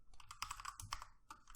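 Fingers tap quickly on a computer keyboard in a short, faint, close burst of clicky keystrokes.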